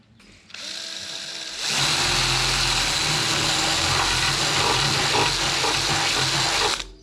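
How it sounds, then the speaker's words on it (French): Power drill boring into a bolt on a 1967 Toyota Corona RT40 under restoration, a brief whir at the start followed by a sustained loud, high-pitched grinding drill run of about five seconds that cuts off abruptly. "j'ai fait un trou dans le boulon. Donc j'espère que je vais pouvoir percer en 3."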